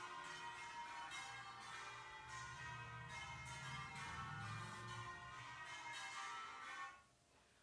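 Church tower bells swinging full circle ring continuously in a loud, overlapping peal with a bright, resonant tone, then stop abruptly near the end, leaving a faint hum.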